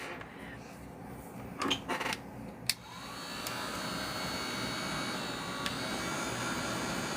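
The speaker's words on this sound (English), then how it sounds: "I'm going to take my heat gun, and again, you could use a hair dryer" Steady broadband whoosh of a hot-air blower running continuously after a few brief clicks and bumps, loud and close.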